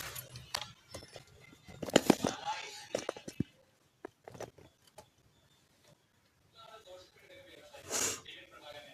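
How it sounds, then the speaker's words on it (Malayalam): Several deep, rough coughs burst out close to the microphone in an irregular run, with soft murmuring and breathy sounds between them and a final harsh cough near the end. "നല്ല ഹൈ ബാസ് ചുമ."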